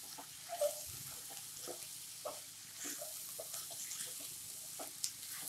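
Green beans and potato sabzi frying in a pan while salt is stirred in, quiet sizzling with intermittent spoon scrapes and light taps, close and soft.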